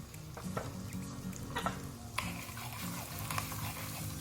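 Asafoetida, curry leaves and sesame seeds sizzling in hot oil for rava idli tempering, a low steady frying hiss with occasional sharp crackles and pops and a faint metallic clink, heard close without speech.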